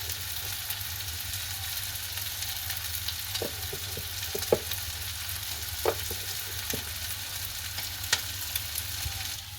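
Prawn curry sizzles steadily in a pan as chili powder is stirred in, with a few sharp clinks and scrapes of the spoon against the pan over the frying.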